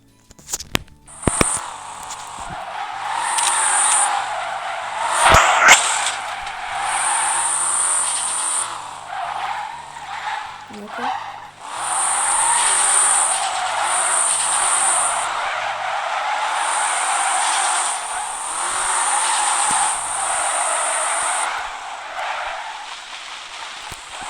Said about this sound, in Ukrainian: Даже без дрифт режиму дрифтить.